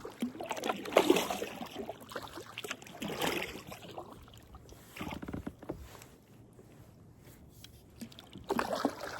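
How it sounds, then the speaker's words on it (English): Kayak paddle strokes dip and swish through calm sea water on a crossing toward Kangaroo Island, soft and close with gentle splashes and trickles repeating at an unhurried rhythm, no voices. "The only thing I can hear is the sound of my paddle."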